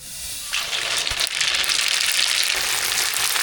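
Mustard seeds sizzle and crackle in hot oil for a sambar tempering, a loud steady frying hiss that starts abruptly after a brief quiet moment and holds close and continuous.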